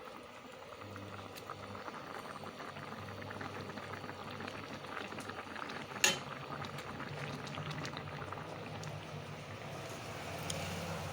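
Fish curry broth boiling vigorously in a pot, a continuous bubbling churn at moderate volume with one sharp clink of utensil partway through and no speech.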